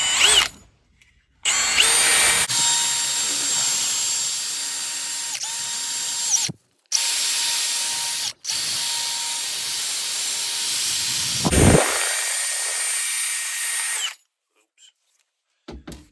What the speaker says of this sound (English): I'll just get my drill and I'm doing that now